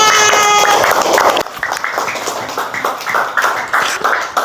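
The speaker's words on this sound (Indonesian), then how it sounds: "tepuk tangan untuk Anida" A classroom group applauds a student who has just read a poem, a short burst of scattered clapping that thins out into lighter, uneven claps.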